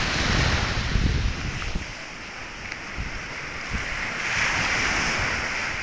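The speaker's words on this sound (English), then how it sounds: "I see a wave crashing the other thing just near" Ocean waves break on beach rocks with a steady, washing roar and wind buffeting the microphone, the surf fairly loud and continuous with no voices.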